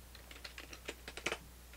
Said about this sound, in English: That's the sound of me typing in things.